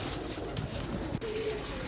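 A pigeon, freshly caught and held up for show, gives a soft, low coo close by, steady over a faint outdoor hiss, with one brief dip in the noise partway through.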